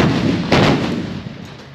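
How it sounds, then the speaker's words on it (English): A tank cannon round fires in a video game, a single loud, booming blast that rolls off into a sustained rumble and fades over about a second, with no talking. "just shot a tank"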